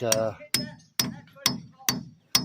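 A red-handled claw hammer taps a pilot bushing into place during engine and clutch work, six sharp, ringing metallic strikes spaced about half a second apart, close and loud with no talk.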